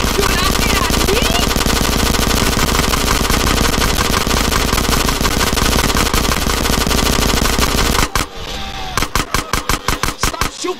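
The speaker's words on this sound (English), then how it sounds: "Stop shooting that thing right next to my ear." Machine gun fire in GTA San Andreas rattles loud and close in long continuous bursts, then breaks into separate short volleys near the end, with engine noise underneath.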